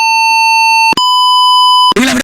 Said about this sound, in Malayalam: ബീപ്പിന്റെ സൗണ്ട് വരെ പലതരത്തിൽ കേൾക്കുന്നു